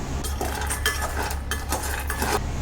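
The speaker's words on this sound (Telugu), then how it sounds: "పల్లీలు పచ్చివాసన రాకుండా ఇలా వేయించుకుంటే సరిపోతుంది" Peanuts dry-roasting in a pan, stirred with a utensil, making a continuous close rattle and scrape with rhythmic clinks over a low steady hum, with no talking.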